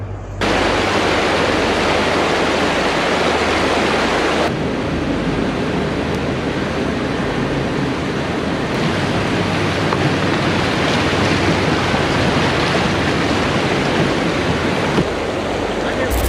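River rapids roar with a dense, steady rush of whitewater heard from a kayak on the river, loud and close throughout, broken only by a couple of brief shifts in intensity.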